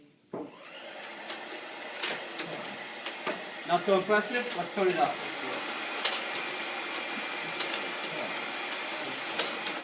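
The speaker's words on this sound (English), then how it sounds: "I'm just going to put it on a medium setting with the hair dryer" A steady, loud blowing whir of a hair dryer on a medium setting runs throughout, with a person speaking briefly over it.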